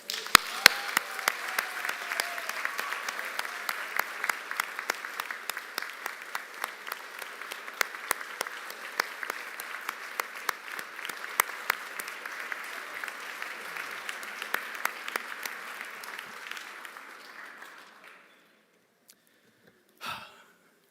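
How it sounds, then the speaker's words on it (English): A graduation audience at an executive MBA commencement claps for well over fifteen seconds, a steady crackling wash with sharp individual claps standing out, then tapers off into near silence with a short final burst. "give a huge duck round of applause to everyone here and everyone out there who supported you"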